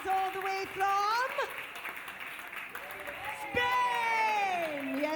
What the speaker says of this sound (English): A big round of applause, please, for the Txalaparta players all the way from